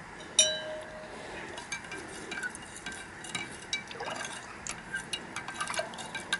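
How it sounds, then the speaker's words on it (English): Nitric acid solution is stirred in a glass vessel, producing a quiet series of light glassy clinks and ticks with a faint fizzing background, alone without talk. "Give it a little stir up."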